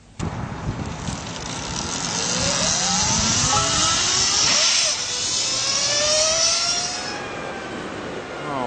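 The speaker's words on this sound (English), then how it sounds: "we took the LS218 up to the Skyline Road so I could let her rip" A Lightning LS218 electric motorcycle at full throttle on Skyline Road, its whine rising in pitch as it accelerates and surging loudly for several seconds before easing off, with wind rush around it.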